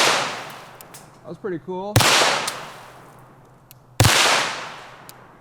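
Two sharp cracks from a .22 LR rifle firing hollow-point rounds at steel targets, about two seconds apart, each decaying with a long outdoor echo; a voice speaks briefly before the first shot.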